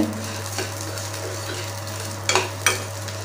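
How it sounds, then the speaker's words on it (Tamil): Lentils and spices dry-roasting with salt in a pan, a soft crackle under a steady low electrical hum, with a few sharp scrapes and clinks of a spatula against the metal near the end. "உப்பையும் சேர்த்து லைட்டாக வறுத்துக்கோங்க"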